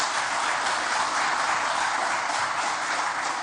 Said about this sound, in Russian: Аплодисменты Минтимеру.